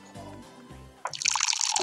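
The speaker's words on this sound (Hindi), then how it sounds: "पानी डालती हूँ जूस।" Juice being poured into a glass in the My Town video game: a short, bright liquid pour splashing in after a brief lead-in of soft game tones.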